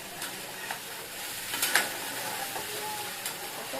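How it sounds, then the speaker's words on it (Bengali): Fried soybean chunks being stirred into a vegetarian curry in a pan, with a steady close sizzle and soft scraping, clicking strokes of the spoon at intervals, and no talking. "এবার সয়াবিনটার সঙ্গে ভালো করে মিশিয়ে দেবো।"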